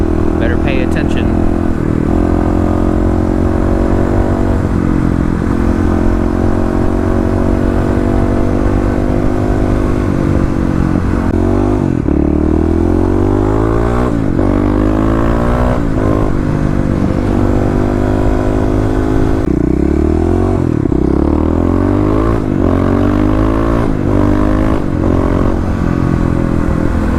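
A Kawasaki KLX351 motorcycle ridden at night, its engine droning loud and close with rising and falling revs through gear changes, joined by wind rush and a rider talking over it.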